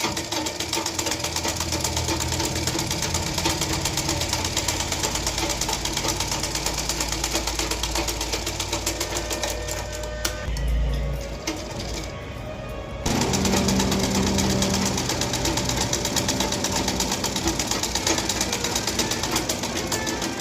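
A sewing machine runs continuously, stitching a blouse sleeve onto the armhole, a steady loud mechanical whir that briefly dips and changes tone before resuming at full speed.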